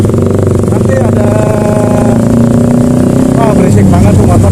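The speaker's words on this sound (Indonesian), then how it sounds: "berisik banget tuh motor di depan deh" A loud motorcycle engine and exhaust droning steadily in traffic, heard from a Vespa scooter rider following behind, with a constant low rumble and talk over it.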